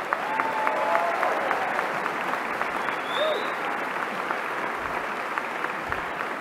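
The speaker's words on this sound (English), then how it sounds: "everyone, please join me in giving them a warm round of applause." Commencement audience giving a warm round of applause at a spring graduation ceremony, with dense, steady clapping from a large crowd in a hall that eases off slightly toward the end.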